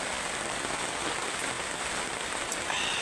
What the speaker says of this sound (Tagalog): umuulan kasi ngayon